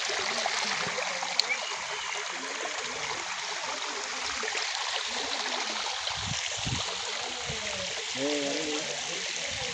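Water flowing at a small waterfall at Mamidigudem in Bhadradri Kothagudem, a steady broadband rush with splashy texture, continuous throughout, with faint voices heard over it near the end.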